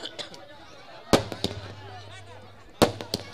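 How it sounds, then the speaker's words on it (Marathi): Fireworks at a village festival in Khanivade: sharp firecracker bursts crackle and pop at intervals over a busy crowd murmur, with two louder close explosions followed by crackling tails. "नक्कीच फटाक्यांची आतिषबाजी आपण बघतोय"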